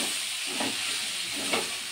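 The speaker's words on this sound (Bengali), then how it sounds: "এই যে রান্নাটা চাপিয়ে দিয়েছি, সব রকম মশলা দিয়ে এখন কষাচ্ছি।" Onions, green chillies and mixed spices frying in a pan, a steady close hiss and sizzle that fills the whole clip, with soft stirring scrapes now and then.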